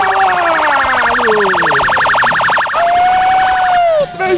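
A police car siren wails loudly and close, with a rapid warbling sweep followed by rising and falling tones. Cheering crowd noise fills the arena around it.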